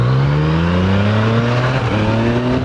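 A Yamaha MT-09 Tracer motorcycle accelerating hard, its engine note climbing steadily in pitch with a brief dip at a quick gear change, loud and close against wind rush, no speech.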